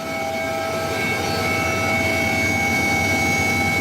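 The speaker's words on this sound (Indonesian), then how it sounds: "tim gabungan juga menerjunkan 1 unit helikopter untuk memaksimalkan pencarian dari udara" A search and rescue helicopter flying over the site of the KMP ferry fire, a loud, steady engine roar with a sustained whine that holds through the whole stretch and grows slightly louder toward the end.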